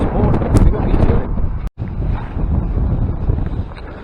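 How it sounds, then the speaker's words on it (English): Strong wind buffets the microphone in loud, steady gusts beside a bridge on a cold day of crappie fishing, with one brief dropout midway and no voices. "it's cold and windy"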